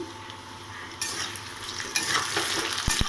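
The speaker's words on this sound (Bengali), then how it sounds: "মাছের ছোলের জন্য আলু আর কাঁচকলা ভাজতে বসিয়ে দিয়েছি" Potatoes and green bananas frying in a pan for fish curry, a close sizzle that grows louder after a second, with stirring scrapes and a couple of sharp knocks near the end.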